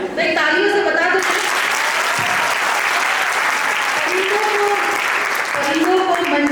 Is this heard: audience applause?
yes